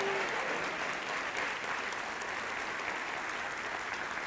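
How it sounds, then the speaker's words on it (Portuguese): A church congregation claps loudly and steadily for several seconds in a dense, continuous wave of applause, with no voices standing out. "Dá um glória a Deus e aplauda bem forte ao Senhor"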